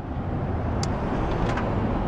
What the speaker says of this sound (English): There's a smart car.